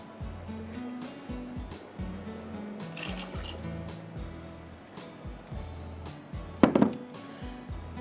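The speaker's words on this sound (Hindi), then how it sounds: "इसे डाल ही देती हूँ थोड़ा सा पानी" A little water is poured into a pot of qorma pulao, giving a soft trickling fill over kitchen clatter with a brief louder splash near the end.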